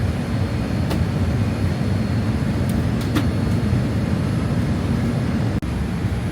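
Cabin of an airliner slowing down on its landing approach into Ivory Coast, a loud steady broadband roar with a few faint clicks and a brief dropout near the end.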